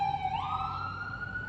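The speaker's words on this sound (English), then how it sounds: "There's a siren." A passing ambulance siren wails, its pitch rising and holding steady, loud and fairly near, with traffic rumble underneath and no talking.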